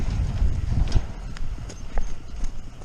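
A horse's hooves clip-clop at a walking pace on firm ground, steady and fairly close, with a voice talking faintly now and then over the steps.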